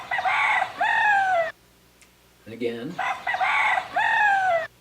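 A rooster crows loudly twice, separated by a short pause filled with clucking, and someone says a few words in between.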